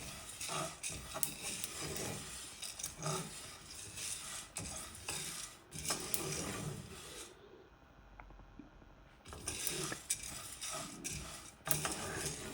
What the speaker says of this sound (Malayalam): അപ്പോൾ ഇനി ഒരു 2-3 മിനിറ്റും കൂടി ഒന്ന് ഇളക്കി കൊടുക്കുക.